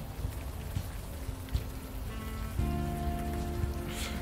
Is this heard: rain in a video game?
yes